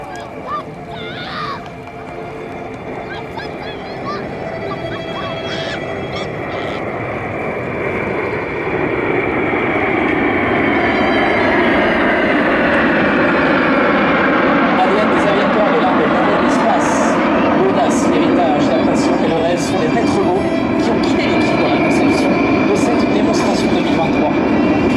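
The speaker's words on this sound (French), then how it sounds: "sur votre gauche en formation Ouragan, la patrouille de France 2023" Patrouille de France jets in Ouragan formation passing at an air show, a broad roar that swells and grows louder midway, then holds steady, with a public-address announcer talking over it.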